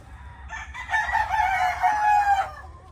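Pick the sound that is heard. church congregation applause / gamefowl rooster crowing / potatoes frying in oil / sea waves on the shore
gamefowl rooster crowing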